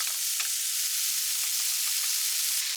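Steady, bright sizzling fills the pan as vegetables are stir-fried with a black vinegar, soy sauce, sake and sugar seasoning, with faint scrapes of stirring under the continuous hiss.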